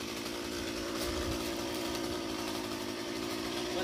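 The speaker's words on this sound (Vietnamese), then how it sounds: "Mấy cây này sẽ cưa phía ngoài trước cho nó mấy cây phía trong dễ ngã" A chainsaw roars continuously and loudly at close range while cutting through rubber trees on a red-earth plantation, its engine holding a high, steady pitch with no pauses.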